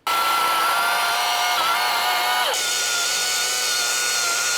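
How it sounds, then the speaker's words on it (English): A chainsaw cutting dead standing trees for firewood outdoors on an island, a loud continuous engine whine close by with pitch dips as the load changes. "Chainsaw,"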